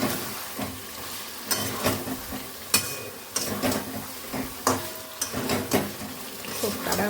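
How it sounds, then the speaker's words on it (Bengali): Pieces of pre-fried meat stirred into spices in a hot cooking pan, giving a steady sizzle with repeated scraping and clanking of a utensil against the pan, close and fairly loud, with faint voices at times. "এবার আমি এর মধ্যে ভেজে রাখা মাংসগুলো দিয়ে দেবো"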